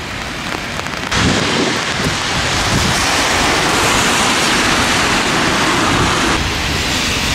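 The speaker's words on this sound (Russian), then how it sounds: "Севастополе дождь." Heavy, steady December rain in Sevastopol hisses loudly and continuously, with gusty wind buffeting the microphone; a quieter stretch at the start before the downpour swells.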